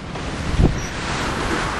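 Strong wind buffeting a sailboat at sea under grey storm clouds in gusts of 20 to 25 knots, a loud continuous roar of wind noise and surf with a brief thump partway through.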